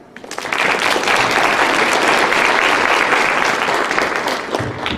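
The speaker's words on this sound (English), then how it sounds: "So applause for Lilia." Audience at an International Women's Day panel discussion breaks into steady, dense applause that swells quickly, holds for several seconds, then begins to thin out near the end.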